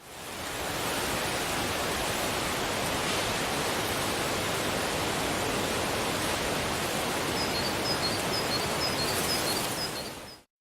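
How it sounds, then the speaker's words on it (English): Soft wind for a forest soundscape, muffled by rolling off the highs, forms a steady, even broadband hush for the whole stretch, with a few faint bird-like chirps near the end. "It's a recording of a soft wind that I muffled down by cutting the higher frequencies to add a little bit of warmth to my forest sound."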